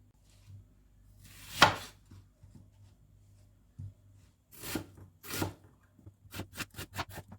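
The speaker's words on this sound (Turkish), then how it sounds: "Şimdi soğanımızı e, küp küp doğrayarak işimize başlayalım." A knife cuts an onion into cubes on a cutting board, first in scattered single cuts, then in a quick run of rhythmic chops, close and fairly quiet.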